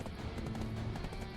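Horse hooves clip-clopping in the video game Black Desert, a quick run of soft, rapid thuds that sit faint and low in the mix.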